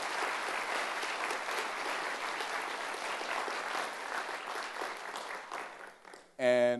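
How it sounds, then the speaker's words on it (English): A school audience at a State of the School event breaks into sustained, dense applause that thins toward the end, and a voice cuts in just as the clapping fades. "a round of applause."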